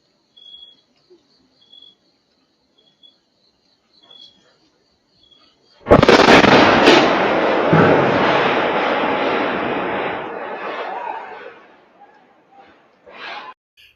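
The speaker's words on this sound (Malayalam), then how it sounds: "സ്ഫോടനം പരിസര പ്രദേശത്തുൾപ്പെടെ പ്രകമ്പനം സൃഷ്ടിക്കുന്ന സി സി ടി വി ദൃശ്യങ്ങൾ പുറത്തു വന്നിട്ടുണ്ട്" A boiler explosion at Ananthapura, Kasaragod, caught on CCTV: after quiet ambience with faint bird calls, one sudden, massive blast erupts, followed by a long, loud roaring rumble and debris noise that slowly fades over several seconds.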